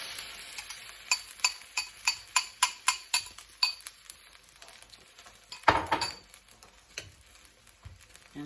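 Beaten eggs scrambled in a pan after being added beside stir-fried vegetables, giving a rhythmic series of about a dozen clinking utensil strokes over a soft sizzle, then a louder scrape and a few scattered taps.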